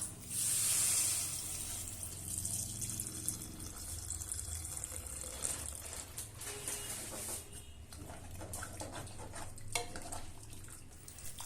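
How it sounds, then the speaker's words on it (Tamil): Tamarind water being poured into a pan of oil-fried spices while making Tamil puli kuzhambu, a steady watery splash and pour with light clinks of utensils against the pan, close and moderately quiet with no talking. "அதுக்கப்புறமா நம்ம கரைச்சி வச்சுருந்த புளி தண்ணி எடுத்து ஊற்றிக்கலாம்."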